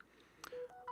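A few quick telephone keypad tones beeping in sequence, short clear dialing notes that are fairly quiet and alone.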